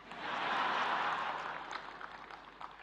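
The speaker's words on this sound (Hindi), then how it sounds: "पहली बार पुरुष" Audience applause at the National Creators Award, a soft swell of many hands clapping that fades gradually, heard from some distance and fairly faint.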